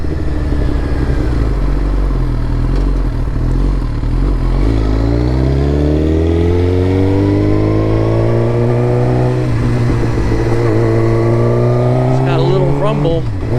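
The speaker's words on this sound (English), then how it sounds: "And the exhaust sounds amazing." Loud, close revving from a Suzuki GSX-R1000 motorcycle with an M4 MC-36 full exhaust, the engine note climbing and settling through several throttle sweeps over a continuous rumble.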